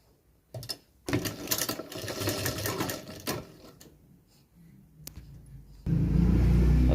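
Sewing machine stitching a folded hem in a tailor's workshop, short bursts of rapid mechanical whirring separated by pauses, then a louder, steadier run at the end.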